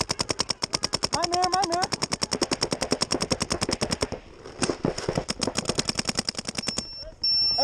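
Paintball guns fire in rapid, rhythmic bursts of sharp pops at a paintball field, nearly continuous for most of the stretch with a short pause, while voices talk and shout over the shooting.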